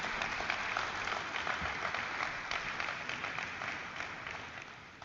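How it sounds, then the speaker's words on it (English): Audience applause at the NSE bell-ringing ceremony marking 30 years of Mastek's listing: a quiet, continuous rush of many clapping hands that slowly fades toward the end. "So let us have a good round of applause for Mastek."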